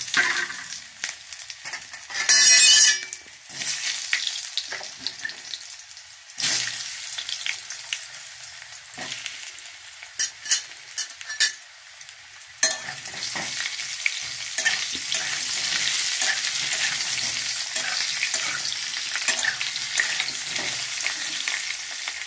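Potatoes fry in hot oil with green chili and whole cumin. A loud, steady sizzle is broken by scraping stirs and clatter in the pan, and it grows louder and denser in the second half.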